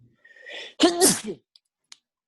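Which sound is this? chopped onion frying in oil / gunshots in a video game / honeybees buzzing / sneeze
sneeze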